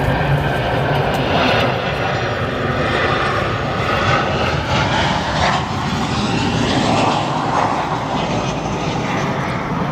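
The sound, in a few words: American Airlines airliner landing at O'Hare airport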